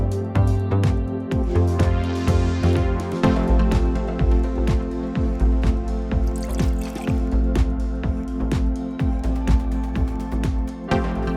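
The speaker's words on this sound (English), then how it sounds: "I'm just going to finish off this gravel vac and get all the debris out of the substrate" An aquarium gravel vacuum siphons debris from a reef tank's substrate, giving a continuous watery gurgle dotted with dense rapid ticks and rattles of gravel knocking through the tube over a low steady hum.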